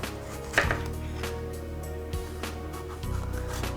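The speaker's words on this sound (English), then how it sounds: "First, we're going to cut it like so to get rid of that core." A knife cutting through a pepper to remove its core on a board, a sharp thud near the start and a few softer cuts and knocks after, close up without talking.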